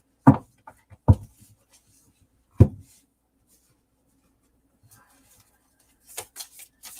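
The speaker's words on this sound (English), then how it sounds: "Just shuffling up my cards here." Oracle cards being shuffled by hand give a few sharp, close taps and riffles, then soft scattered rustles, with quiet pauses between them in an otherwise hushed room.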